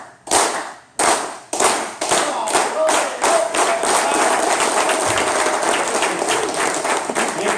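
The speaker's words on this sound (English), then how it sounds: "we're going to do a quick slow clap" An audience claps in a slow clap: sparse single claps at first, spaced about half a second apart, then quickening into dense continuous applause that fills the room and holds loud to the end.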